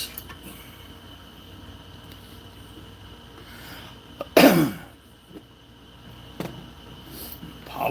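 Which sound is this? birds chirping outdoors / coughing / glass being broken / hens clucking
coughing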